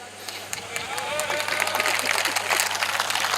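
An audience at a Hindi poetry recitation about Veer Abhimanyu breaks into applause, clapping building from scattered hands into a dense, loud ovation over a low hum.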